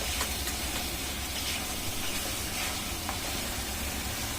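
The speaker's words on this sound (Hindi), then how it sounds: "इसे लगभग मैं 10 से 12 मिनट फ्राई करूंगी।" Mustard fish curry masala fries in a pan with a loud, continuous, dense sizzle and hiss that holds steady from start to finish.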